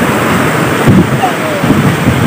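Flowing water at Raptadu in Anantapur, a loud, steady rushing wash heard up close with no pause, roughened by buffeting wind on the microphone.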